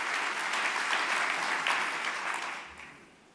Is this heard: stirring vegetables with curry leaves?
no